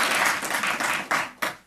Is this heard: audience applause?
yes